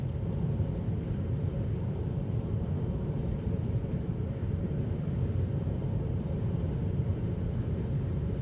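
Steady low road rumble and tire roar inside a Tesla Model 3 cabin cruising at 70 mph, an even unbroken drone with no talk.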